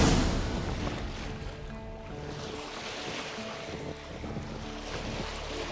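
A homemade wooden rowing boat that takes on water, on a lake in The Witcher 3, with steady water wash and a dull rumble of wind against the hull, continuous and close, with no talk.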